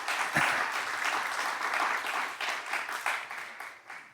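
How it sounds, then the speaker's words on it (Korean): A crowd applauding steadily, a dense wash of clapping that holds for several seconds at an even level. "같이 박수하겠습니다."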